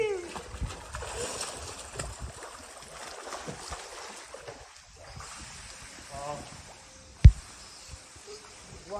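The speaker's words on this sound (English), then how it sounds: "Water's really going over with all of us." Water splashes and sloshes over a group of people in a swimming pool in Barbados, with irregular bursts and one sharp loud splash near the end, while several voices talk and call out throughout.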